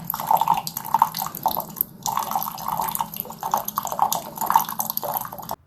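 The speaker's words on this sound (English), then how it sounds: "we're gonna start dripping some hot water" Hot water drips steadily from a countertop reverse osmosis water filter in quick, uneven drops over a low background hum. Nobody speaks.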